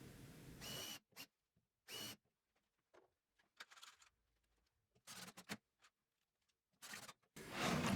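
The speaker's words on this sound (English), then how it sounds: "pre-drill, countersink and drive in the screws" A power drill whirs in short, separate bursts as it pre-drills, countersinks and drives screws into wooden planter boards, with quiet pauses between each run.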